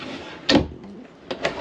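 A drawer in a 2023 Grand Design Imagine 2970RL travel trailer slides open or shut, giving a quick close thump followed by two lighter clicks a second later.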